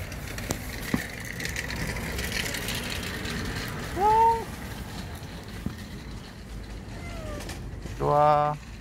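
A stray baby kitten mews twice outdoors, a short, thin cry midway and a louder, fuller meow near the end, over faint background noise with scattered small clicks and rattles.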